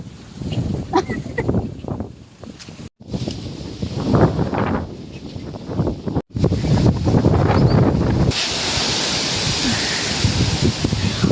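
Strong stormy wind roars and gusts against the microphone, loud and continuous for the whole stretch, with two brief dropouts and a harsher, brighter rush toward the end.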